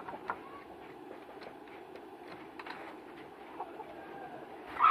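Laying hens on a poultry farm cluck softly in scattered short calls, fairly faint against a quiet background, with a louder squawk at the very end.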